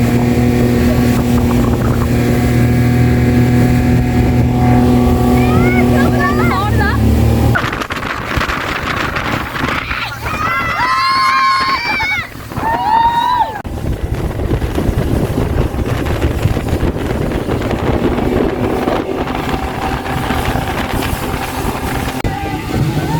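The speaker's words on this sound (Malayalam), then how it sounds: "ഗൈസ് നമ്മളെ സ്പീഡ് ബോട്ടിൽ പോവാണ്." A speedboat runs on the backwaters at Alappuzha, its motor drone and rushing water loud and close, with heavy wind buffeting the microphone and music playing faintly at the start.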